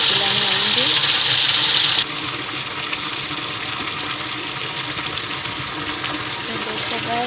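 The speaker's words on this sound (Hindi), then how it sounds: "उसने टंकी में अभी नल चालू किया है।" Water running from a tap into a storage tank in a village home, a steady, continuous gushing rush that holds evenly throughout, with faint background sounds and no clear talk.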